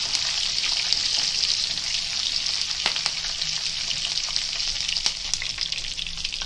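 Curry leaves and broken Kashmiri chillies crackle and sizzle steadily in hot oil for a Konkani bean and potato sabzi, a dense close frying hiss with sharp pops scattered throughout and no talking.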